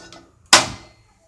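A single sharp click bursts into a brief whooshing hiss that fades within half a second as a gas stove burner ignites close by.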